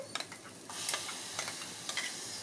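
Blended tomato purée frying in a hot masala tempering for a broad bean curry, a soft steady sizzle with a few light stirring clicks, close and fairly quiet throughout.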